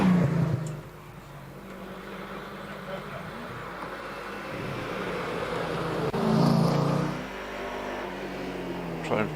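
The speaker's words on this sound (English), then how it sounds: "we see the V8 engined Triumph TR7 176 of Rod Warner coming around Pardon" A V8-engined Triumph TR7 race car at the Prescott hillclimb rises from a low rumble to a strained engine roar, swelling again near the end, heard at a distance with a commentator talking over it.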